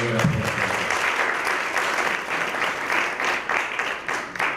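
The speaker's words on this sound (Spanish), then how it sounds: "un aplauso para la doctora que nos acompañó" An audience at an international academic colloquium on communication gives warm, sustained applause after a brief voice at the start, and the clapping stays fairly even to the end.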